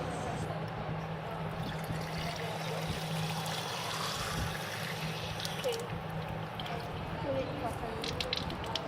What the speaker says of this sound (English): firstly, we fill the displacement can with water.